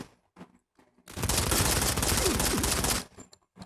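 Sustained automatic gunfire from the Modern Combat 5: Blackout shooter game rattles loudly for about two seconds, a dense continuous burst with brief quieter sounds before and after.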